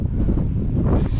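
Strong wind on a hilltop near Captain Cook's Monument buffets the microphone in a constant low, rough roar that stays loud for the whole moment without a break.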